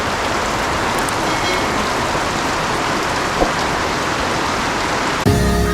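Heavy rain pours in a dense, loud, continuous hiss, with a faint distant tone and a single knock partway, ending in an abrupt burst of a different sound.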